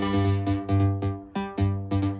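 A bright synthesizer pattern of short plucked notes in a choppy, syncopated rhythm, each note swelling and decaying quickly, loud and close.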